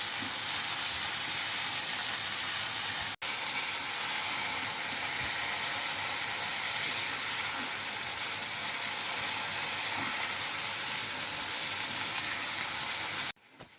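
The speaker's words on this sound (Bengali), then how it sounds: "তার সঙ্গে একটা কাঁচা লঙ্কা আমি এখন দিয়ে দিচ্ছি। আর চিংড়ি মাছগুলো আমার ছোটো ছোটো করে কেটে নিয়েছি, এটা আর একটু ভাজা হোক" Pointed gourd and a green chilli fry in a pan for a prawn dish, giving a dense, even sizzling hiss that carries on unbroken for the whole stretch, with two brief cuts and no talk.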